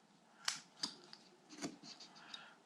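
A carving knife presses stop cuts into a small wooden Santa ornament, giving a handful of crisp, close clicks and snaps spaced unevenly over a quiet background.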